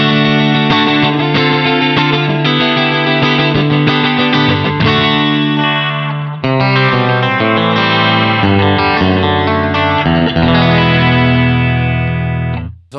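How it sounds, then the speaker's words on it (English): Electric guitar played through a Fender Mirror Image delay pedal with chorus-like modulated slapback and distortion, sustained chords ringing with doubled, shimmering echoes, loud and alone, cutting off at the end. "So it has that mixture of chorus with slapback delay"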